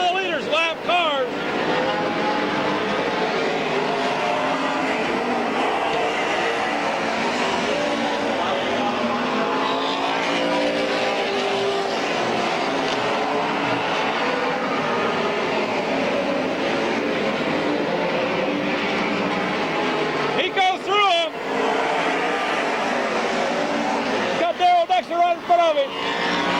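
Stock cars race side by side at Midvale Speedway in 2001, their engines a constant loud roar with passing surges. An announcer talks over the racing.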